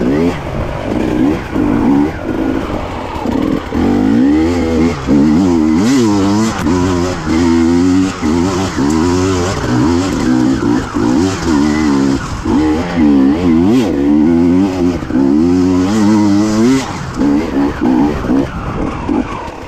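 A KTM TPI two-stroke motorcycle engine with a relocated injector revving hard and climbing through the gears, loud and close with rising and falling pitch sweeps on each shift, a voice speaking faintly over it.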